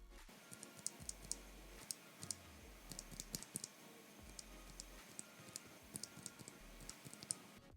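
Typing on a NuPhy Air75 mechanical keyboard with non-clicky switches produces faint, close, irregular soft key clacks and taps in quick bursts, with no voices.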